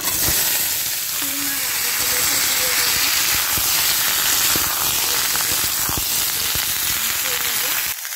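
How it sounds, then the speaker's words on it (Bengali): Five-spice seeds and a dried red chili hit hot oil in a pan while making a bean and eggplant curry, giving a steady, close sizzle and crackle that runs throughout. "এবার আমি তেলে দিচ্ছি 5 ফোড়ন, একটা শুকনো লঙ্কা।"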